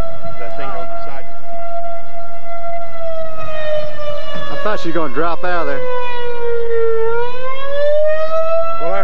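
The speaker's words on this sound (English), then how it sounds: "Well, our sirens work anyway." Civil defense tornado sirens wail loudly and steadily during a Kansas tornado, the tone holding and then sliding down and back up, while people talk over the sound.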